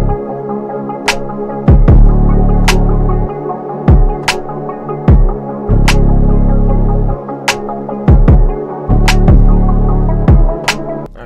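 Programmed beat of layered kick drums, several sounds stacked for a fuller low end, with a snare added, looping steadily with punchy repeated hits and sharp snare cracks, alone and loud.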